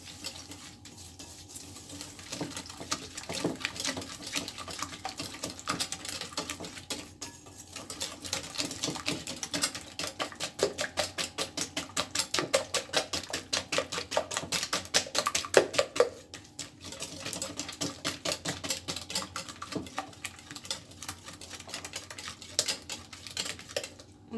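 Powdered sugar being stirred into tart dough mixture in a bowl, a rapid steady patter of spoon or whisk strokes against the bowl, close and continuous with small pauses.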